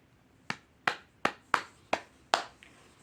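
A single person claps about six times at a steady, unhurried pace, each sharp clap close and clear in an otherwise quiet room.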